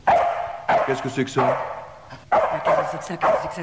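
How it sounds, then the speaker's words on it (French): A lost dog barks in short bursts near an indoor room, several yips and barks set between two stretches of a man's speech. "C'est un chien."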